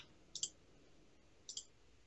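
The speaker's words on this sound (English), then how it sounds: "right click, create a job" Two quick computer mouse clicks, each a sharp double tick, close and fairly faint against a quiet background.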